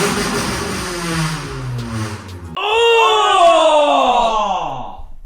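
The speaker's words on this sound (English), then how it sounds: "this is just a before and after what the exhaust sounds like" A car engine revving loudly through its exhaust, rising and falling in pitch, with a harsher, louder burst of revving in the second half.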